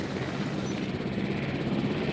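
A helicopter carrying a dinosaur in the game Jurassic World Evolution gives off a steady, droning rotor and engine roar that stays loud and continuous throughout, with no talking.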